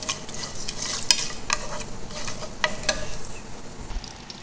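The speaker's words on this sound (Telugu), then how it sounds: "కొంచెం ఇందులో బిర్యానీ సరుకులు వేసేసి కొంచెం ఫ్రై చేసుకుందామండి 1 నిమిషం" Whole biryani spices fry in hot oil in a pan for Mandi rice, making a close, crackling sizzle with scattered pops and stirring scrapes, and no one speaking.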